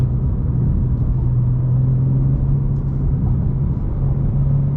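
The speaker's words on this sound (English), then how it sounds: "I'm currently in M2 right now. A little burbles." Low, steady exhaust rumble from a manual BMW M2 cruising city streets at night, a continuous close drone with a constant engine hum and faint irregular burbles, no voices.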